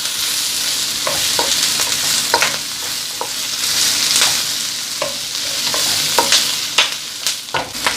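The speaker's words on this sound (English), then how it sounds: "And we're just sauteing" Fresh ginger and beef sautéing in a stir-fry pan, a loud steady sizzle close by with repeated scraping and stirring strokes of a utensil, no talk.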